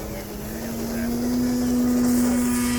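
Propeller of an RC military drone airplane whining steadily at takeoff, a sustained motor tone holding level and slowly growing louder over about three seconds.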